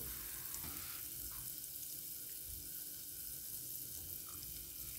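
Margarine melts and sizzles in a thin pan over a flame for popcorn, a steady close crackling hiss that continues without a break.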